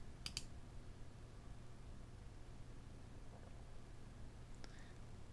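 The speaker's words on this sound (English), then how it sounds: "Click install." A computer mouse gives a pair of sharp, quiet clicks near the start and another near the end, with low steady hum between, while installing a Drupal 8 module.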